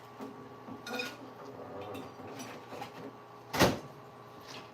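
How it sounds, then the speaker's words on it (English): Dishes being placed into a microwave in a home kitchen, faint clinks and rustles with a single louder clunk of the microwave door or dish, over low room noise. "I ain't warming them up yet. I'm just putting them in the microwave."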